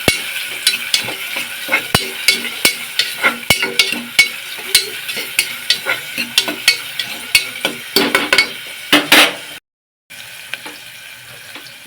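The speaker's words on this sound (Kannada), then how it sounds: "ನೋಡ್ರಿ ಎಣ್ಣೆ ಕಾಯಕ್ಕಿಟ್ಟನಿ. ಈಗ ಇದಕ್ಕೆ ಸಾಸಿವೆ ಹಾಕಿದೆ," Mustard seeds and onion in hot oil on a home stove, a bright crackling sizzle with frequent sharp pops and spatters throughout, close and loud, with a brief gap near the end.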